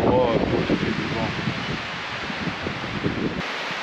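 Wind rushes steadily in a broadband roar, buffeting the microphone while hiking in the Cévennes, with a brief voice at the start.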